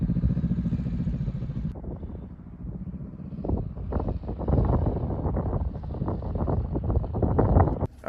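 Wind buffeting a microphone outdoors during a beginner motorcycle riding lesson, a steady low rumbling roar that dips, then swells into gusty bursts, with no one speaking.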